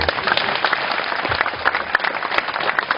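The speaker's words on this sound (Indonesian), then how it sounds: "bersyukur dan tepuk tangan untuk Gus Yusuf" An audience at a Mocopat Syafaat gathering applauds for Gus Yusuf, with a dense, steady round of clapping from a seated crowd, moderately loud and uninterrupted for the whole stretch.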